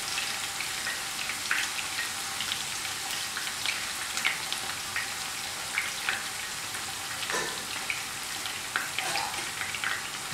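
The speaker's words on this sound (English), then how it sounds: "Fry each side for 5 to 10 minutes each." Fish frying in a pan for a home fried fish biryani, a soft steady sizzle with scattered crackles and pops, fairly faint and close, with no talking.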